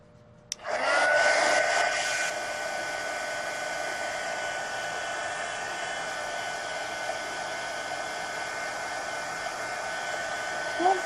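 A hair dryer blasts steadily at close range to dry a watercolor page, starting abruptly with a loud surge and then settling into a constant whirring hum that runs to the end.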